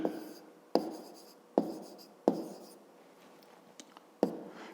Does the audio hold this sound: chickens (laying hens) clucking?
no